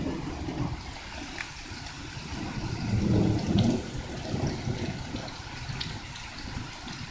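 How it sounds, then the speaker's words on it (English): Rain falls outside in Flint as a steady, close wash of hiss that swells briefly midway, with no voices. "There's a lot of rain"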